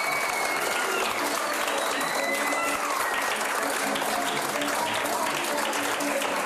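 Sustained applause from a large crowd, dense steady clapping throughout with faint voices mixed in.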